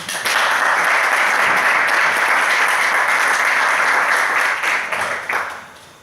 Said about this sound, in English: let's give Renata another round of applause